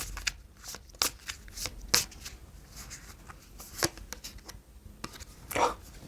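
Tarot cards shuffled and drawn during a reading, giving a run of crisp riffles, slaps and flicks at an even, moderate level with no voices.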